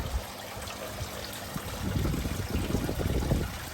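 Water from a koi pond filter shower trickles and splashes steadily, a broad wet wash that swells slightly louder in the second half, with no voices.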